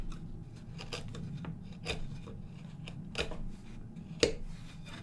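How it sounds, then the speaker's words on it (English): A knife pares wood to clean up the tenon on a small stool leg, making close, quiet rasping scrapes in short irregular strokes with one sharper cut near the end and no voices. "the transition between the tenon and the leg is a bit scruffy, so I'm going to clean that up a bit using a knife"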